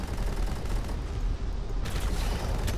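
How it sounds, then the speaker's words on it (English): A plasma cannon mounted on an IFB fires in Angels Fall First, heard as a dense, continuous barrage of loud, rumbling shots, with sharper crackling bursts toward the end. "I do have a plasma cannon mounted on my IFB"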